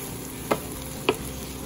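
Tomatoes frying in a pan while being stirred, a steady low sizzle broken by two short scraping strokes of the spoon about half a second apart, with no voices.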